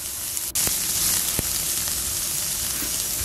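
Garlic sizzling steadily in a hot frying pan, a continuous close crackle broken by a couple of sharp clicks of the pan or utensil.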